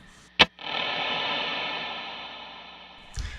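A short percussive guitar hit sets off a long, bright Strymon BigSky reverb preset with extended pre-delay, the wash swelling after a brief gap and slowly decaying over a few seconds before another hit.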